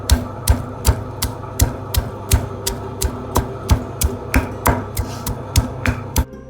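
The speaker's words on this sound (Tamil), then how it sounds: "இப்போ நம்ம பூண்டை நல்லா தட்டிப்போம்." A large garlic clove is pounded for raw banana fry in a home kitchen, giving steady, sharp thuds about twice a second, close and prominent, with no voices.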